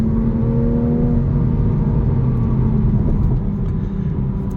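Toyota Supra sports car engine under throttle from inside the cabin, a loud, dense rumble with steady drone and rising revs, alone with no speech.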